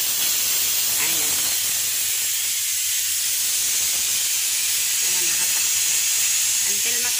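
Steam hisses loudly and continuously from an opened rice cooker while someone talks softly in the background.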